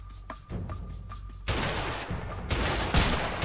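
Gunfire in the video game A Way Out, a few sharp shots followed by a sustained rattling burst of rapid fire, loud and dense with no talk over it.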